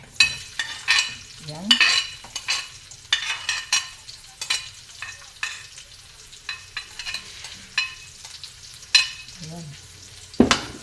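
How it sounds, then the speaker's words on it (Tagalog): White onions frying in hot oil for homemade fried rice, loud close sizzling broken by repeated scraping stirs and clattering strokes of a utensil in the pan, with a few brief spoken words. "Sinunod natin ang ating sibuyas na puti."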